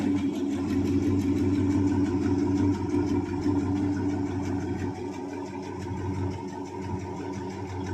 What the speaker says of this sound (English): Take and do a little quick exhaust sound on it. The exhaust don't sound bad.